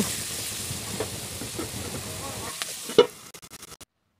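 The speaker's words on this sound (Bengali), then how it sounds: "ওই তেলের মধ্যে আমি উচ্ছে আলুটা ভেজে নেব তো দিয়ে দিলাম ভেজে নিচ্ছি" Bitter gourd and potato go into the oil left from frying broccoli, producing a dense close sizzle that drops away after a couple of seconds into a run of sharp utensil clicks and taps.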